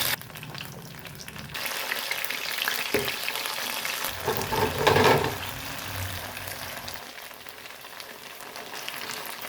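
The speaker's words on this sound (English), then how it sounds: "Fry it until golden brown." Chatkara boti pieces frying in hot oil, a loud steady sizzle that swells briefly midway as the meat is moved, close up with no talking.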